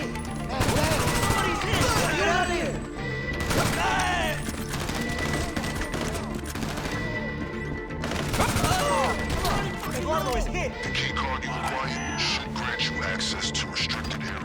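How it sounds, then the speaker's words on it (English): Gunfire in GTA Online during a Cluckin Bell raid inside a building, with dense bursts of shots and crashes layered over game music and continuing for most of the stretch. "shoot your way through the entire building"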